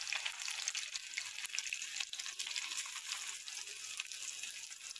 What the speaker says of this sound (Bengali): ছোটো ছোটো করে দিয়ে দিলে এরকম সুন্দর করে বড়াগুলো ভাজা হয়ে যাবে